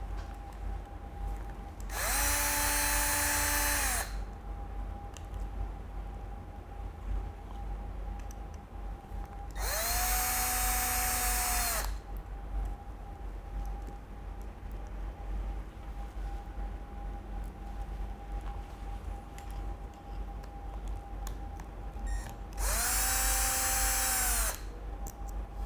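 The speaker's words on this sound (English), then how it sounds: "Now we're going to remove this gear case assembly by using T10 bit." Power driver with a T10 bit backing out gear case screws on a Milwaukee M18 hydraulic cable cutter, three loud whirring bursts of about two seconds each separated by long stretches of low background hum.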